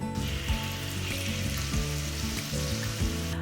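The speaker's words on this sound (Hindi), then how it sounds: "पनीर जब हम फ्राई कर रहे होते हैं ना, तो उसके अंदर का जो मॉइस्चर है वो लूज आउट होना शुरू होता है।" Batter-coated paneer deep frying in hot oil for chili paneer, a dense, loud continuous sizzle and crackle with bubbling pops throughout, close by and with no talking.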